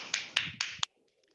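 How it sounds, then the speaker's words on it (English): Four sharp claps from a small exercise class at the end of a core workout session, spaced evenly and close, then a quiet pause with faint rustling. "give yourselves a clap"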